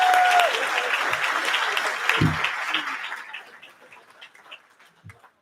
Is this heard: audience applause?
yes